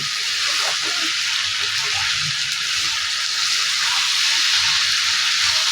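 Taki fish bhorta frying in a pan while being stirred, a dense continuous sizzle and hiss with faint scraping stirs underneath, close and steady.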